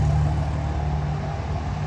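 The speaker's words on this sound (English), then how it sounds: "Loudest truck on the planet." A loud truck engine rumbles at a steady, deep idle while parking, close by and continuous throughout with no voices over it.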